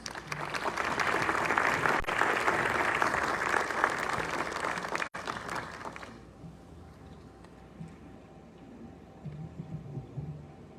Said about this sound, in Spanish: Con un fuerte aplauso damos la bienvenida a nuestro expositor David